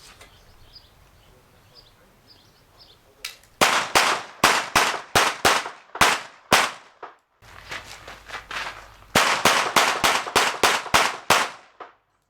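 Shots from an HS 950 .22lr revolver hitting targets outdoors, two sharp volleys of roughly six to eight evenly spaced cracks each, loud and close, separated by a short pause, with faint background before the first string.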